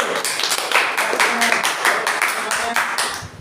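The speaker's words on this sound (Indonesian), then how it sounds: "tepuk tangan untuk kelompok 1" A small group claps for a class presentation, a short burst of irregular, fairly close hand claps with individual slaps standing out, fading near the end under faint voices.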